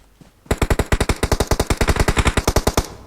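Rapid automatic gunfire in the mobile battle royale game PUBG Mobile, a loud close burst of about twenty evenly spaced shots fired in quick rhythm after a brief quiet start, with no talking over it.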